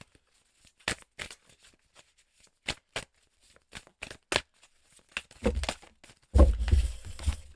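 Oracle cards, an akashic oracle deck, being shuffled and drawn by hand: a series of crisp flicking riffles and slaps spaced irregularly, growing into denser rustling and a louder handling thump toward the end.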